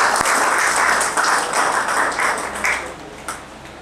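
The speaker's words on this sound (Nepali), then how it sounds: "एकपल्ट जोरदार ताली बजाएर हामी उहाँलाई हामी धन्यवाद बनाउन है" A church congregation at a revival service claps loudly together, a dense, sustained wash of applause that fades slightly toward the end, with a few sharper claps standing out.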